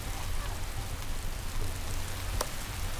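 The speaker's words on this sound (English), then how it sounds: "The rainy season has set in." Steady rain hiss from The Settlers: Eastern Realm, a soft continuous wash of falling drops with a low hum underneath and a brief brighter patter near the end.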